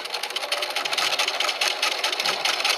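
A sewing machine stitching a quarter-inch seam with white thread, running as a continuous close whirring hum without pause.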